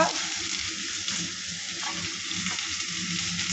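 Garlic and onion frying in a pan for bhartha, a steady close sizzle with stirring scrapes running throughout, no talking.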